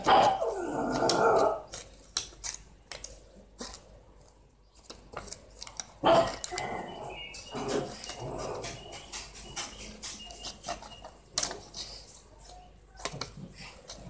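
A dog barks and growls in sharp, irregular bursts, some loud and close, others softer, between quieter stretches of small handling noises indoors.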